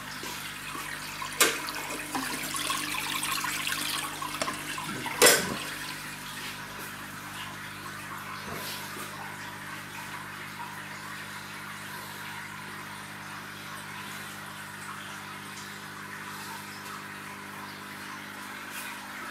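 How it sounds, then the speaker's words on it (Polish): Water from an aquarium circulator and filter spray bar streams and splashes continuously at a soft, steady level, with a couple of brief knocks early on and no voices. "Jest cyrkulator i jest deszczownica z filtra."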